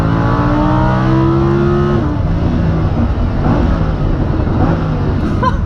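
Lamborghini Huracan engine accelerating hard in automatic mode, a loud rising roar that climbs in pitch, drops briefly at an automatic upshift and keeps pulling, heard close up with no talk.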